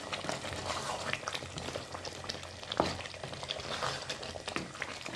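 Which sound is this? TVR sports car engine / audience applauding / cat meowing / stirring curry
stirring curry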